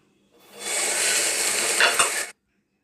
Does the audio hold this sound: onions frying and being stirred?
yes